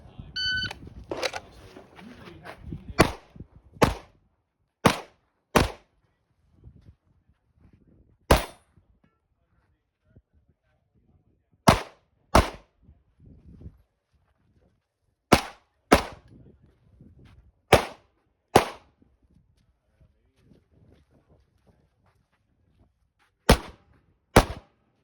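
Pistol shots from a Springfield Prodigy 1911DS at a USPSA shooting match, about sixteen sharp cracks fired singly and in quick pairs with pauses between strings, close and loud, with faint movement between shots.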